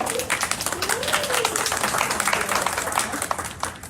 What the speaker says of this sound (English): let's give a round of applause for everyone for turning out today